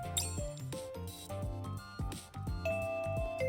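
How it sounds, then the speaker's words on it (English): School bell chime in the video game Goddess of Victory: Nikke, a series of bright melodic tones ringing steadily over about three seconds, clear and close with no talking. "The school bell rings."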